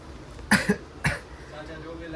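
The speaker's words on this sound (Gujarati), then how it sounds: "ઉધરસ જુઓ" A man coughs close by, a quick pair of rough coughs followed a moment later by a single harsher one, loud against a quiet room.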